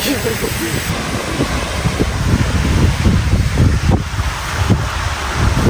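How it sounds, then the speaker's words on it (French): Loud, blustery wind on Koh Phi Phi, Thailand, buffets the microphone in a constant roar, gusting harder at moments, with a voice speaking underneath. "il y a un peu plus de vent"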